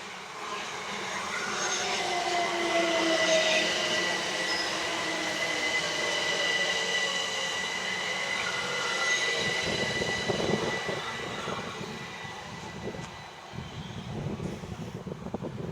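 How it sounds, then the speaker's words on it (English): Southern train pulling into Cosham station, a long rumbling approach with squealing wheels and a whine of traction motors, then clunks and knocks as it slows near the platform; no voices. "The train just come in."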